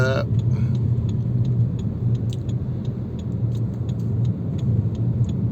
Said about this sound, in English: this Omni now overtaking me